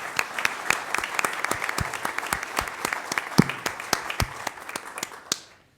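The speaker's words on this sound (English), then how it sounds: "let's give a big round of applause to all our commended scholars this evening" Scattered applause from an evening audience honoring commended scholars, with distinct sharp individual claps in an irregular rhythm, fairly close, tapering off abruptly near the end.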